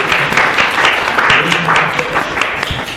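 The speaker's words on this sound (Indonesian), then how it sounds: "tepuk tangan semuanya" Applause in a classroom, a group of students clapping steadily and fairly loudly for a few seconds, with some voices mixed in.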